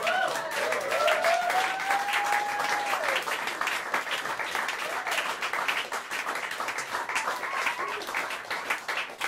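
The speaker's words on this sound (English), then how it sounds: "Give him a round of applause." Dense, enthusiastic applause from a large audience at a live jazz club show, with a voice calling out over the clapping near the start, continuing steadily to the end.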